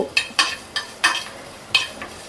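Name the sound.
coriander seeds frying in a pan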